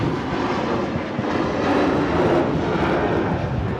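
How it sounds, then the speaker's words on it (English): A Ryanair jet airliner takes off at a windy Manchester Airport, its engines giving a steady, loud broadband roar that holds throughout with no talk. "Ryanair rocketing out to Rhodes. Wow, it's a pretty early takeoff."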